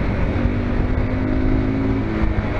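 A Zongshen RX3 motorcycle with about 14,700 km on it riding over a rough road, its engine droning steadily with a low rumble and a faint whine, continuous and close, with no talk.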